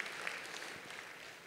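A faint scattering of light applause from an audience at a university commencement address, soft and distant, briefly rising then thinning out.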